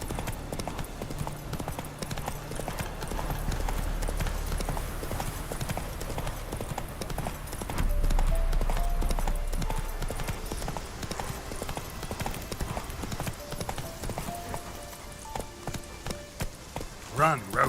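Geralt's horse Roach gallops in The Witcher 3, hoofbeats pounding in a fast even rhythm under game music and low rumbling ambience, with voices speaking over parts of the run.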